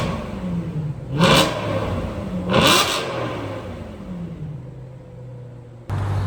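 An Audi RS5 B8.5 with a 4.2L V8 engine revs twice in sharp, loud blips, each falling back to a deep idle rumble, with a click near the end.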